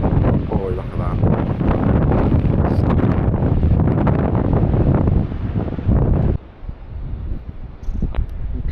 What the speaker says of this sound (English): still very windy, as you can hear